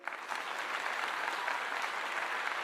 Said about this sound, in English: Let's give it a clap again.